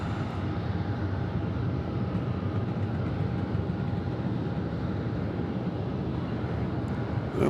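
A Delta airliner at Atlanta Hartsfield-Jackson airport gives a steady, distant, low jet engine roar that holds level throughout, with no voices.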